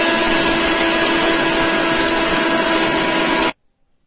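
A kitchen mixer grinder runs at full speed, grinding dry spices and lightly crushed dry ginger into powder for kashayam, a steady loud whir and rattle that stops abruptly near the end.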